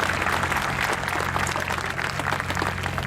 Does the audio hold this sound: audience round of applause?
yes